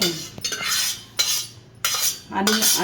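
A spoon scraping and clanking through cooked rice and dal in a pot for bisi bele bath, several bright metallic scrapes in bursts with short pauses between, close and fairly loud.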